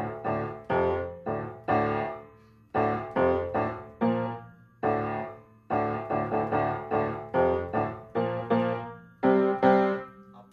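A piano plays the CM Punk WWE theme, a series of loud, punchy repeated chord stabs in short rhythmic bursts with brief pauses between phrases, played alone without talk.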